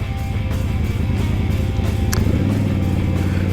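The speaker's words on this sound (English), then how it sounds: "That is a big old tractor." A big old tractor engine rumbles in a steady, loud, low drone with a slight shift in pitch partway through, heard close by with no voices.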